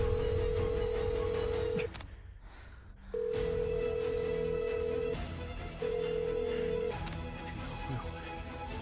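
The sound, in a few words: phone ringing unanswered during a call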